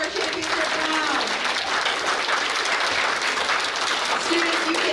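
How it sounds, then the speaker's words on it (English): An audience at an elementary school geography bee breaks into applause, a dense, even wash of clapping from many hands that carries steadily from start to finish, with a few faint voices mixed in. "Let's give a big round of applause for our championship round."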